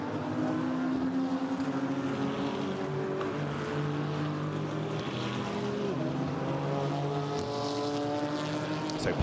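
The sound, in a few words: safety car driving a lap at Monza race track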